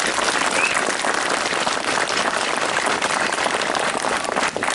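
An audience applauds volunteer firefighters of Tuchyňa at the handover of a new Iveco Daily fire vehicle: loud, dense, continuous clapping from a crowd that fills the whole stretch without a break.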